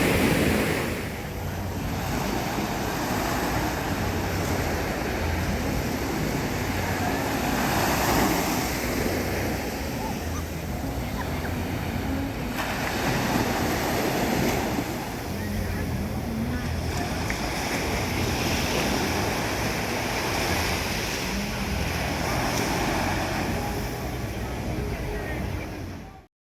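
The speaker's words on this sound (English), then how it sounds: "This is Waikiki Beach, Honolulu," Evening surf rolls onto Waikiki Beach in Honolulu, Hawaii, a continuous loud wash of breaking waves mixed with steady wind buffeting the microphone.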